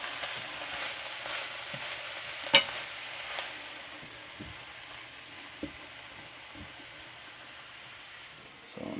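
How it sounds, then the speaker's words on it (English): Sous vide chicken cooks slowly in a pan over lowered heat, giving a soft, steady sizzle with a few scattered stirring taps and clinks, fairly quiet throughout. "I'll probably turn my pan down to a lower temperature. And we're just going to let it cook nice and slow."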